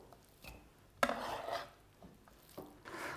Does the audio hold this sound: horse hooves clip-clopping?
no